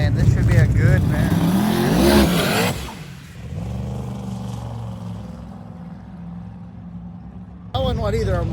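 Drag racing cars at a Sick Week event, a Ford Mustang among them in the near lane, roaring loudly as engines rev and launch, then a steadier engine drone fading into the distance, with a commentator talking over the noise.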